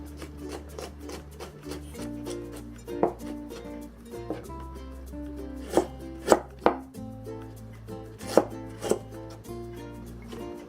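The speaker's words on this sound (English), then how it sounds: "let's begin with just mincing the ginger and garlic" A knife mincing ginger and garlic together on a cutting board for Sichuan mapo tofu, giving a run of sharp, irregular chops, some louder and closer than others, over quiet background music with no talking.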